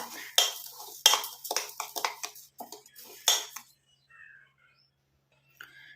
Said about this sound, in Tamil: இந்த மாதிரி ஒரு இரும்பு கடாய் ஒன்று எடுத்துக்கலாம்